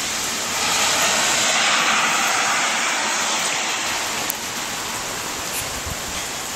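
Heavy rain falls steadily outside a front door, a broad, constant hiss that stays loud and even with no voices, dipping slightly partway through.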